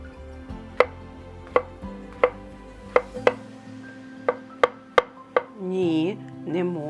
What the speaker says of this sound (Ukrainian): Наступними нарізаю печериці.